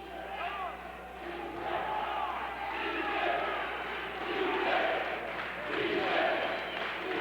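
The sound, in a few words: boxing crowd chanting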